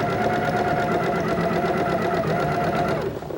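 A sewing machine runs continuously, chain stitching quilt block pieces, a steady close whirring with a fast mechanical rhythm that eases off right at the end.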